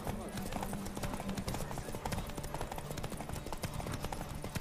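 A horse gallops in The Witcher 3 video game, with rapid rhythmic hoofbeats clattering steadily under a voice giving commands.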